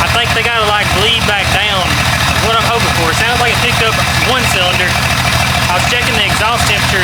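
A Jeep 5.0 stroker engine idles loudly and steadily with a rough, pulsing tone, with lifter noise present, while a person talks over it throughout.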